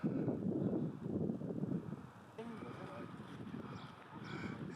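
Gusty wind buffets the microphone during a mountain walk in the Dolomites near Badia, a steady low rumble that swells and eases over several seconds, with no talking.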